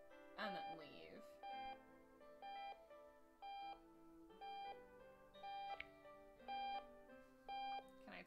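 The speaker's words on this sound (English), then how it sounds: "Turn off the alarm" Repeating electronic alarm clock in a video game, sounding in short regular bursts about every second over a busy game soundtrack, loud and close.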